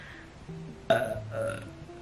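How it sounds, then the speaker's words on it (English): A single loud, drawn-out burp that starts abruptly, rumbles for a moment, then trails into a quieter second gurgle, close up with no talking. "Need a burp."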